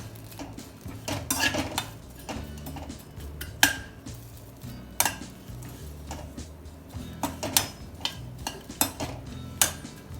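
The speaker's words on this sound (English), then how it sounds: "You have to change it to high heat and whisk it for a few minutes" Ingredients for a vegetarian Mediterranean salad being whisked in a pan over high heat: a busy run of metallic clinks and scrapes, close by, with irregular sharper knocks against the pan.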